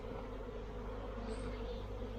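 A swarm of honeybees on La Réunion island drones softly and continuously in a low, even buzz, without talk, as the swarm empties from its high perch.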